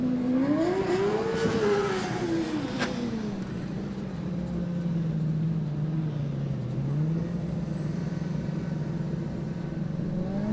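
Formula Student race car lapping a skidpad with warm tires, its engine note rising and falling steadily and continuously at moderate distance, with a faint voice underneath.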